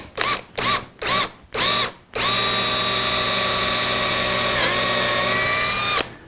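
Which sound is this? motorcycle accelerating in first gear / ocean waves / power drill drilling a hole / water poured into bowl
power drill drilling a hole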